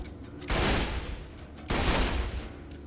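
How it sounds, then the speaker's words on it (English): Sledge's Shotgun in Borderlands 2 firing twice, two loud, close blasts about a second apart, each with a rough, decaying roar and no talk. "Sledge's Shotgun special effect is that it double taps."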